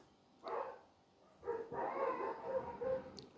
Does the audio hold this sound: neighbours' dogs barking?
yes